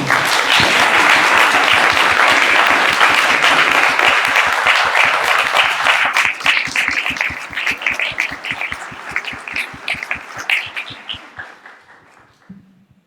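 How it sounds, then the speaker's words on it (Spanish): Loud applause from a large audience for a lecturer at an academic conference, steady at first, then thinning into scattered claps before fading out. "Podemos brindarle un aplauso a la conferencista, por favor"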